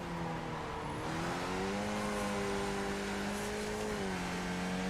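A race car in a racing game lapping Tsukuba with little rear grip revs hard through its gears, the engine note climbing, dropping at shifts and climbing again, loud and continuous.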